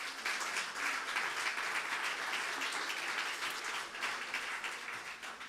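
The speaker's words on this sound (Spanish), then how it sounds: "Dale fuerte el aplauso a Jesús." A church congregation claps for Jesus in a sustained burst of applause, a dense even wash of many hands that holds steady throughout at moderate distance.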